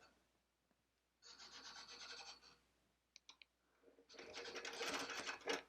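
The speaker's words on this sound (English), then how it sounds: "I'm going to slowly start to baste across the bottom of my quilt" A Handi Quilter Forte longarm quilting machine basting across the bottom of a quilt: a quiet close whir and rapid stitching bursts, a few brief clicks between them, then a louder longer stitching run.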